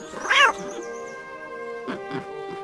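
A cat's brief meow stands in for the Cheshire Cat in a Spanish audiobook of Alice in Wonderland, one short cry at the start over a steady sustained musical drone, then fainter soft sounds.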